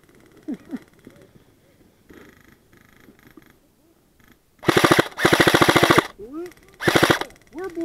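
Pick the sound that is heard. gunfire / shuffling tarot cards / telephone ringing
gunfire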